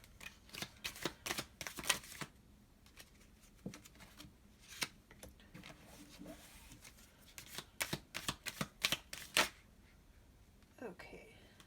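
Tarot cards are shuffled by hand in a run of quick, crisp riffling bursts and slaps, close and fairly loud, with short pauses between rounds.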